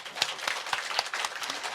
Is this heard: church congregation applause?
yes